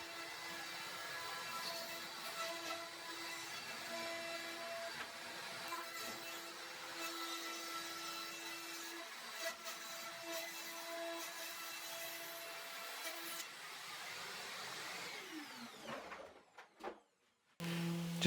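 A router with a bearing-guided flush trim bit trims veneer flush to a plywood bulkhead on a boat build, a steady high-pitched whine that runs for about fifteen seconds before winding down and cutting off.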